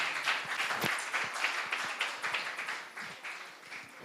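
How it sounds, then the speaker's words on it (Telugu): An audience at a youth Christmas church gathering claps to welcome the hosts, a steady patter of scattered hand claps at moderate distance lasting throughout, without talk. "అందరూ చప్పట్లు కొడుతూ వారిని ఆహ్వానిద్దాం."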